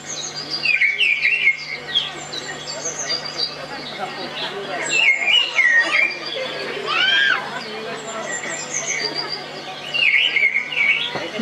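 Bright bird chirps and tweets, played as a sound effect in a Christmas nativity skit, come in bursts of repeated calls over a steady background hum, with a voice speaking underneath.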